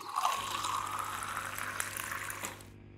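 Water runs steadily for a few seconds as it is poured for drinking, a close, soft liquid stream that cuts off abruptly near the end, with a low hum beneath.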